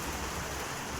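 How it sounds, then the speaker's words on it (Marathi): Heavy unseasonal rain pouring steadily, a dense, even hiss of water with no breaks, filling the whole moment. "कसला जोरदार पाऊस पडते."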